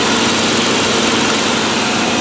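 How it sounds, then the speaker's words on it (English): A 2006 Buick Lucerne with the 3800 pushrod engine idles in a steady, even rumble, close and loud, with no voices over it. "3800 is a very good engine."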